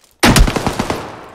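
Gunfire in a video game: a sudden close burst of rapid automatic shots, loud and sharp, trailing off over about a second.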